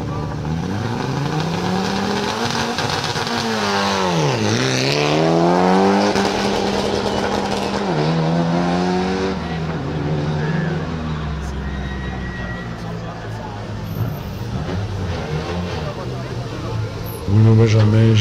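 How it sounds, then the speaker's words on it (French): A Renault Clio Rallye 4 rally car at a rally event revs hard and sweeps past with rising and falling engine pitch, gear changes and a fading drone, under continuous commentary. "Gilles Brumier sur la Clio Rallye 4"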